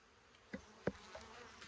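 Honeybees buzzing faintly around an opened wall cavity of sheetrock and insulation during a bee removal, a low steady hum with a few brief louder passes of individual bees close by.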